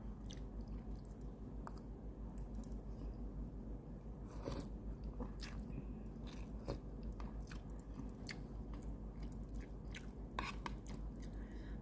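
Someone eating instant tom yum noodles close to the microphone, with soft chewing throughout and scattered crisp bites and smacks over a low, steady background hum.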